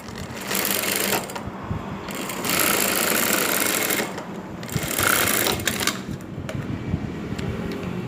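A sewing machine stitching dress pocket fabric, loud close mechanical rattling runs with short pauses between bursts.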